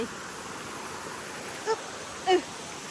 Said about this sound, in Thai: หนูมาเจอน้ำตกนะ สวยมากเดี๋ยวหนูจะลงไป